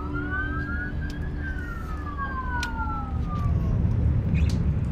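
A California fire engine siren wails with rising and falling tones, fairly near, over a rumble of traffic and engine noise.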